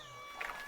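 A cat gives a short, faint meow at a farm in Coorg, a single brief call set against the quiet background.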